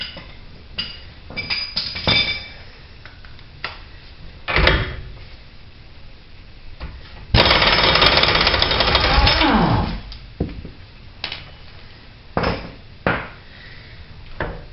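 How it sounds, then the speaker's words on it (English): An axle nut spun off a 2003 Ford Taurus during CV axle replacement, with scattered metallic clinks and taps, then a loud continuous burst of impact-wrench rattling lasting a couple of seconds, followed by more sporadic clanks. "Let's go ahead and spin the rest of this axle nut off."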